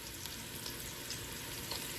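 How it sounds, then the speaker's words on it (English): Beef pieces with Cajun seasoning sizzle steadily in a hot pan, a dense continuous crackling hiss close up with no talking. "I have a good sizzle going, and yes, I'm putting all this meat in here."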